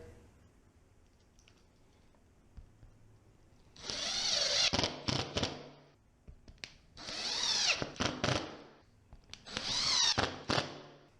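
A power drill drives screws into a cracked drywall ceiling during a repair, three loud, close bursts of whining motor, each lasting a couple of seconds, with quiet gaps between.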